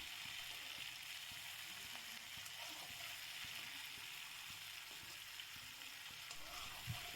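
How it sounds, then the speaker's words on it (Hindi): Potato and ivy gourd (kundru) sabzi roasting slowly in a pan, producing a faint, even, continuous sizzle with a few soft ticks and one small clink near the end, no voices. "सब्जी बहुत बढ़िया भुन रही है धीरे धीरे"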